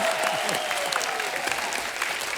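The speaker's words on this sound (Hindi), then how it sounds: "सोनम जी के लिए जोरदार तालियां।" Studio audience applause on a comedy talk show, a loud sustained burst of many hands clapping with some cheering and voices mixed in, holding steady throughout.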